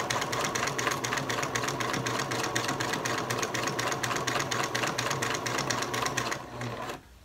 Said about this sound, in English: I'm going to get this one side sewn up